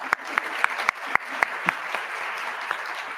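Audience applause for a guest on a panel about charitable giving, with a few sharp, distinct claps over a dense wash of clapping, even and fairly close for a few seconds.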